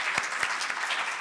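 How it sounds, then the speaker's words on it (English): Audience applause at a talk on preserving oversize Asian paintings, a dense, steady wash of many hands clapping at once, fairly loud and sustained without any voices. "I just think that's an applause right there"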